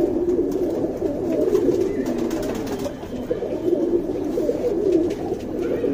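Domestic pigeons coo in soft, repeated throaty phrases, close by and fairly steady, with a faint background murmur and no speech.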